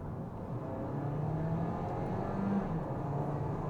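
A Peugeot 308 PHEV plug-in hybrid switched to sport mode accelerates onto a faster road, heard from inside as a steady, moderately quiet engine and road hum that rises slightly with a faint whir.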